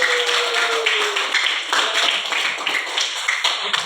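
A school class claps for a student group after a presentation on the surface area of a cylinder. Many hands patter unevenly and fairly close in a classroom, keeping up a steady clapping for about four seconds.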